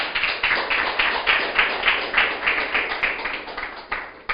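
A church congregation claps together in praise during a sermon, a steady fast run of dense, rhythmic handclaps at close range, sustained throughout with no voices over it.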